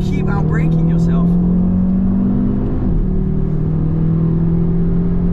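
An Audi RS3 Performance Edition's engine and exhaust drone steadily and loudly on a drive around corners, with the pitch holding and then dipping partway through, and people talking briefly at the start.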